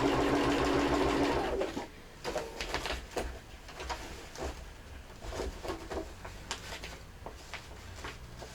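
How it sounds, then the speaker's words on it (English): A sewing machine runs top stitching on a boot bag made of easily fraying fabric: a steady, close mechanical whir for about two seconds, then it stops, leaving faint clicks and handling noises. "I'm going to try and put in a top stitch without sewing everything into"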